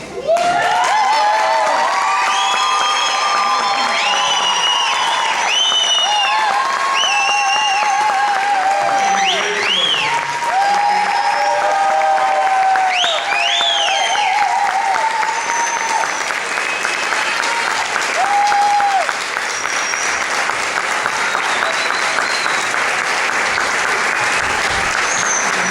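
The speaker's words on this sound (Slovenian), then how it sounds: "Poseben in močan aplavz" Theatre audience applauds loudly after a performance, sustained dense clapping mixed with cheers and high excited shouts of children, continuing strongly for over twenty seconds.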